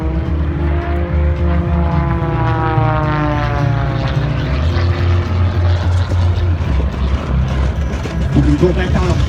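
An MXS aerobatic airplane flies flat spins at an airshow, its propeller engine a loud, steady drone whose pitch shifts as it tumbles, with a commentator's voice over it.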